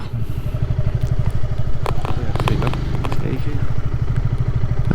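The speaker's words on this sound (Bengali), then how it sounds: "আমি তো আমার স্পোর্টস বাইক নিয়ে নদীর মধ্যে নামাই দিলাম" A CBR sports motorcycle rides down onto a sandbank of the Padma river, its engine a loud, close, steady rumble with clattering thumps over the rough ground.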